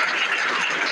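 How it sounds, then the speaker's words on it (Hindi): Students applaud in a school classroom, a brief burst of dense, steady clapping heard close and alone. "इनके लिए आप तालियां बजाइए।"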